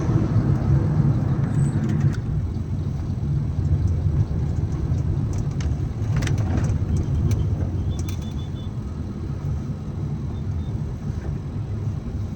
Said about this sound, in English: let's drive straight up to the other side of Awka